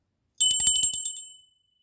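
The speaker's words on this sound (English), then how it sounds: "I'm going to ring my bell." A single bicycle bell rings sharply and close, a quick bright trill that fades out after about a second.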